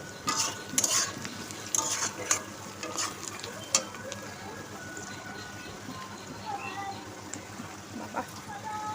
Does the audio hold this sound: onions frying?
yes